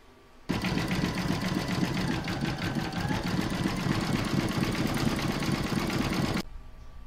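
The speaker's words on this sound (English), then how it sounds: "I'm now going to stitch round number five, which is going to do the decorative zigzagging all the way around the rabbit and the outside of the background" An embroidery machine stitching a decorative zigzag border in variegated thread around an in-the-hoop bunny mug rug, a loud steady rapid mechanical whir for about six seconds, starting and stopping abruptly.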